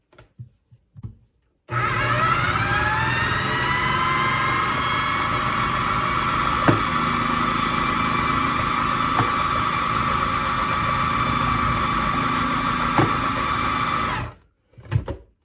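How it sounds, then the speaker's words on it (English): A blender runs steadily for about twelve seconds, whirring at a high pitch while it purees vegan basil pesto thinned with almond milk, starting and stopping abruptly with faint clicks before and after. "add some plant-based milk to this. It's just almond milk while it's blending to thin it out a little"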